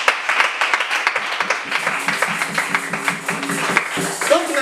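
A church congregation clapping rhythmically in acclamation during a worship service, steady beats repeating under singing voices and music.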